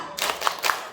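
Students at an Islamic senior high school in Indonesia clap in a quick rhythmic chant, two or three sharp, close hand claps in under a second.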